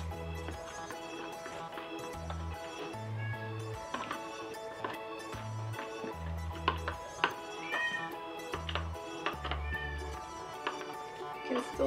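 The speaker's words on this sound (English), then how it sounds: "Still hear our kitty crying in the background." A pet cat meows in the background during a homemade bath jelly project, repeated cries woven through steady background music and sound.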